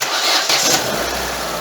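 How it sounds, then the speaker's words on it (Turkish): Opel Astra G car engine cranking and firing on a freezing cold start, a short starter whir that catches into a steady running engine, close and fairly loud. "Arabamızı şimdi çalıştıralım."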